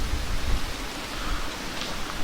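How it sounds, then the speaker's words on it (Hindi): Strong wind blows before a storm on a remote mountain road between Joram and Kurung Kumey, a steady rushing roar with low gusty buffeting throughout. "हवा का साउंड."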